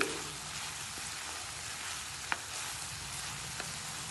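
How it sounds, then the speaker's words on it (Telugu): Curry with ridge gourd pieces frying in a pan as it is stirred after chilli powder goes in, a steady close sizzle with a couple of faint scrapes of the spoon. "కూర అంతా కలుపుకుందామండి"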